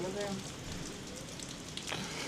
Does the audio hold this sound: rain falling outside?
yes